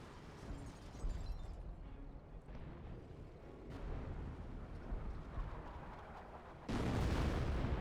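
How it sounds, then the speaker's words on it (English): Artillery barrage in the wartime strategy game Company of Heroes, with booming shell impacts and rumbling blasts rolling continuously, swelling into a louder, denser burst near the end, without any talking. "we got our artillery barrage back here, just damaging some structures"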